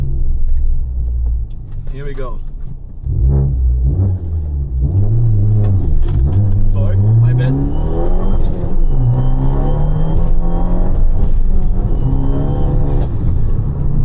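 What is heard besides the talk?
Fiat 500 Abarth engine revving, downpipe exhaust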